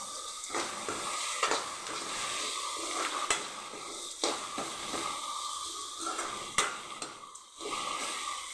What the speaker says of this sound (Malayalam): തക്കാളി നന്നായി വാടുന്ന വരെ ജോലി വെച്ചിട്ട്